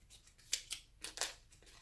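Playing cards for the Zombicide Black Plague board game, NPC cards drawn from a deck and handled at close range, giving several short crisp papery slides and snaps with quiet gaps between them.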